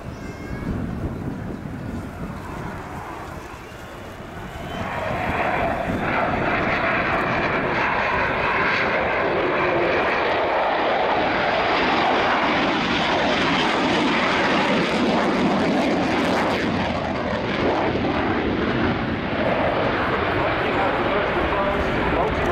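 A Lockheed Martin F-35B Lightning II jet performs a full display at RIAT 2016. It starts as a distant rumble, then swells after a few seconds into a loud, sustained roar that keeps building.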